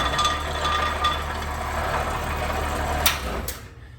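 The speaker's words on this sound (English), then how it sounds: "if you turn on the lathe, the first thing you're going to notice is that there's a little bit of wobble" A wood lathe spins a baseball bat blank with a slight wobble, giving a close, steady mechanical hum with a faint rhythmic ticking and a couple of sharp clicks before it winds down.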